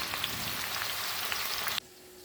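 Raw onion frying to golden in hot oil for chivda, a steady dense sizzle that runs close and even, then cuts off abruptly near the end, with no voices.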